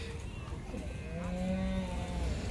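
A large HF dairy cow lows with a long, rising moo over a steady background of farmyard noise at a cattle market, close and clearly audible.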